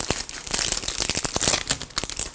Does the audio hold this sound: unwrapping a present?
yes